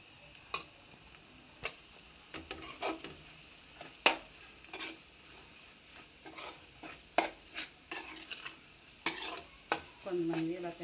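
Eggs fry and get stirred in a pan for a simple Telugu-style egg scramble, a steady soft sizzle running throughout with repeated sharp scrapes and taps of a spatula against the pan, close and fairly quiet, no talking.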